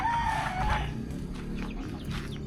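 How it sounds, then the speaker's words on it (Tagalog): Chickens and chicks on a farm, with close, loud clucking and a crowing call near the start, continuing in busy overlapping bursts. "Ito yung mga sisiw natin dito."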